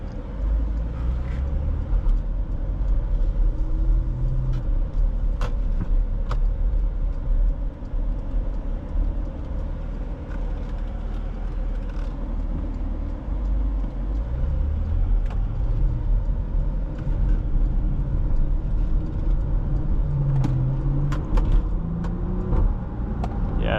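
A 2016 Porsche Macan Turbo drives along in a steady low engine and road rumble, heard from inside the cabin, with gentle swells as the SUV accelerates and no talking.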